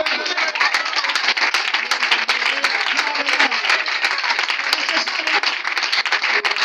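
A church congregation at a Sunday service applauds, with dense continuous clapping and cheering voices from the crowd that stay loud throughout.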